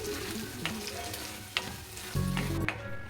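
Masala paste with mint and coriander sizzling in hot oil in a pan, a steady close fry with a few scraping stirs and a brief louder clatter near the end.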